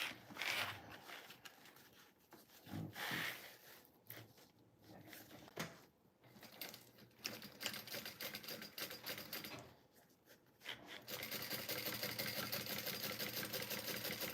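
A sewing machine runs close by while sewing an understitch, giving a rapid mechanical clatter in bursts with short pauses, then a steadier hum toward the end, and no talking.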